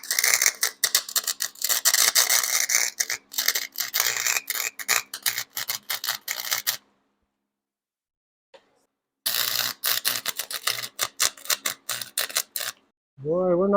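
Tack welding on a steel jammer frame to check tank clearance, done in crackling, sputtering bursts of arc with short pauses, then a long silence before another run of welding; a brief tone sounds at the very end.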